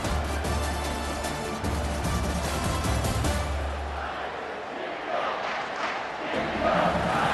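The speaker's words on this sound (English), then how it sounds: "Decibels rising as the crowd gets behind this defense on 3rd down" A stadium crowd roars on third down in College Football 25, a dense sustained wall of cheering that fades briefly before swelling louder again near the end.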